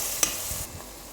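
Meat spices are stirred in a hot pan, a short quiet scrape of the spoon over a faint sizzle, alone without speech.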